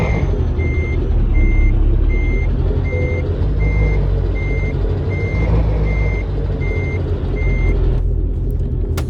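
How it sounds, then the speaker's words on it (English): A truck's reversing alarm in American Truck Simulator beeps in a steady, evenly spaced series over a loud, constant diesel engine rumble, close by, with a brief clatter near the end. "You'll be hearing the beeping sound."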